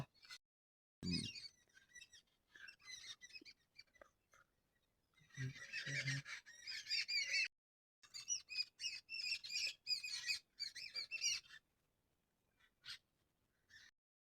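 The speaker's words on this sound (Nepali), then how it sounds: "यताउति चाहिँ होइन चराचुरुङ्गी कराइरहेका छन्" Birds squawk and chirp outdoors in scattered bursts separated by quiet gaps, fairly close and clear, with no talking.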